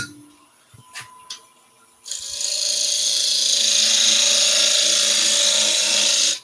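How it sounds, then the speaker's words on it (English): A wood lathe cuts into a turning blank with a parting tool: after a couple of faint taps, a sudden bright hissing scrape starts and holds steady and fairly loud for several seconds before stopping abruptly. "I'll start off with a parting tool"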